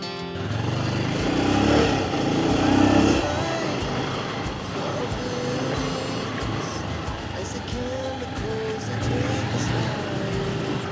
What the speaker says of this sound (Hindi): ये पल्सर 220 है, बट ये मेरी ड्रीम बाइक थी एक टाइम पर